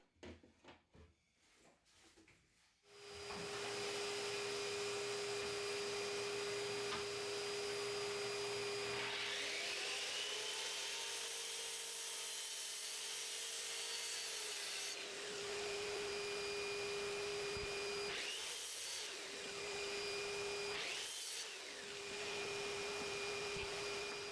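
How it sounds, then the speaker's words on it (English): A track saw with dust extraction cuts through MDF on a workbench, a steady loud motor whine and vacuum rush sustained for about twenty seconds, with a few wooden knocks before it starts. "For those cuts, I won't go throughout, which is a great thing you can easily do with a track saw."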